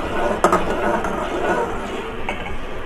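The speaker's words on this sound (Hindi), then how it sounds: "मुसलसल चम्मच हिलाते रहें ताकि जो है वो नीचे ना लगे" A spoon is stirred continuously through thickening raw mango syrup cooking in a pot, giving a steady scraping swish with an occasional metallic clink against the pot.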